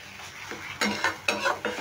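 Pointed gourd with coriander leaves is being dry-stirred in a pan, with about four quick spatula scrapes against the metal over a faint sizzle, heard up close.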